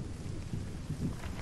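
A brief stretch of steady rain with low rumbling thunder, heard at night in the Hold Your Own survival game, with a dense wash of falling water and deep rolling booms and no voices.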